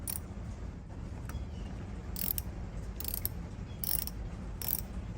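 Ratchet wrench clicking in short repeated bursts while tightening a part down on a Subaru Impreza, with four or five evenly spaced rounds of close, crisp ratcheting over a steady low hum.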